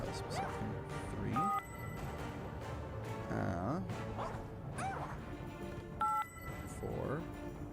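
Electronic dial tones and beeps from a Mickey Mouse phone being dialed in Epic Mickey Rebrushed, several short tonal blips scattered over a busy mix of game music and thuds, with speech around them.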